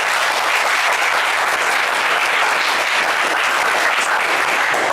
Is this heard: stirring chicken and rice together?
no